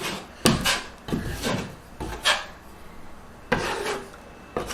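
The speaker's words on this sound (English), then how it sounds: "now that the tape is on the wall, we can just cover it with the drywall compound" A drywall knife spreading joint compound over freshly applied tape on a bedroom wall, a series of close, scraping, rasping strokes, each lasting under a second, with short pauses between them.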